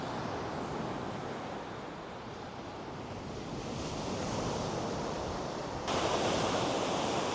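Ocean surf washing steadily onto Lido Beach as the tide comes in, a continuous broad roar with wind buffeting the microphone, swelling slightly louder near the end.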